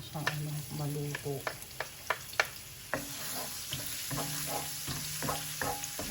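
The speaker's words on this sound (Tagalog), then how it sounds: "uumpisahan na natin yung ating paggigisa. First is yung inuuna ko muna yung ating ginger." Ginger sautéing in a pan, a soft continuous sizzle broken by scattered sharp taps and scrapes of stirring, close and fairly quiet, with no talking.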